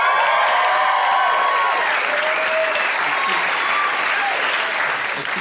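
Loud, steady studio audience applause during a televised comedy sketch parody, a dense continuous roar of clapping with a few faint voices mixed in throughout.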